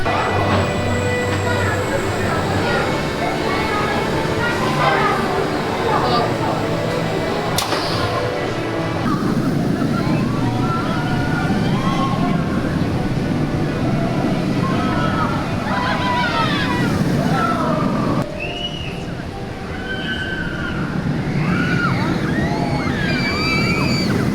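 Riding the Abyssus roller coaster at Energylandia brings a long rushing roar of wind and track noise, with rising and falling shrieks and voices breaking through as the train speeds along.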